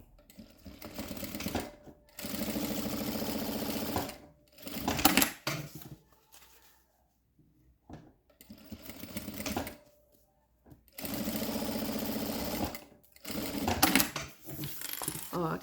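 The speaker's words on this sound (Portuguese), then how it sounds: "aqui eu vou finalizar com a costurinha na última lateral" A sewing machine stitches the fabric lining along the last side of a jewelry pouch, running in loud, close bursts of several seconds each, broken by quiet pauses and brief handling noises.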